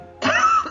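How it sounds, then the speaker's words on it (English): A single short, rough cough, close and fairly loud, bursting out after a brief silence and trailing off quickly. "I must apologize for this cough."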